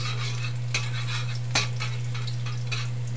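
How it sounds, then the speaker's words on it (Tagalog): Garlic browns in a frying pan with a soft steady sizzle, a couple of light utensil scrapes against the pan, and a constant low hum beneath, no talking. "So bawang muna tayo. Mag-brownin lang natin ng konti guys."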